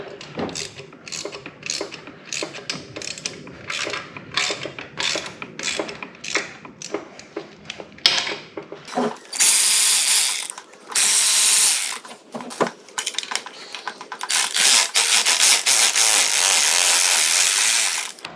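A ratchet clicks in quick repeated bursts loosening exhaust bolts on a Gen 2 Suzuki Hayabusa motorcycle, followed by longer loud stretches of a power tool spinning them off, with short pauses between.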